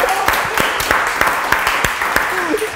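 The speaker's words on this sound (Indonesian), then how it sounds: "Tepuk tangan dong." A studio audience on a TVRI talk show applauds, a crowd of brisk rhythmic claps, fairly close, with a voice faintly underneath.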